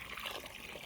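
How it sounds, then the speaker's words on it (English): Water from a hose rinsing all-purpose aquarium sand, a soft steady trickling and splashing, quiet and brief with no talk. "So we got the water hose"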